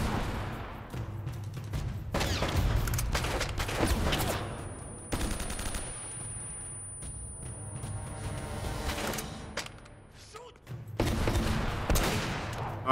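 Gunfire in the video game Uncharted: Drake's Fortune, with dense bursts of rapid shots and loud volleys coming in waves, separated by shorter, quieter gaps.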